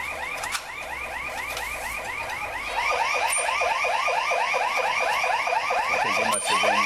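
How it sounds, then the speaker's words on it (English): A loud electronic alarm rings steadily, repeating rapid rising-and-falling pulses, like a car alarm, growing slightly louder partway through. "I think they must have been responding to the alarm. And that alarm loud."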